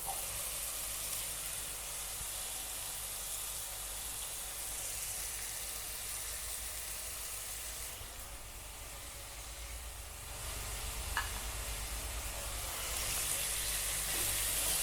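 Thin sliced capsicum sizzles in a hot pan of oil for capsicum rice, a steady broad hiss of frying that holds evenly throughout with one brief clink partway through.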